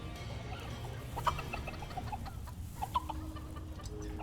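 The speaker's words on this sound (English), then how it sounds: "And we should probably take care of more chicken" Chickens cluck in a farm setting in the video game Dungeons 4, scattered soft clucks over a steady low background hum, with no talk.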